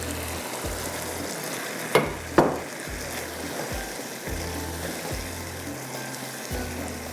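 Yogurt hits a chicken karahi with black pepper and the pan keeps up a steady close sizzle, marked by a couple of sharp clatters and a periodic stirring scrape.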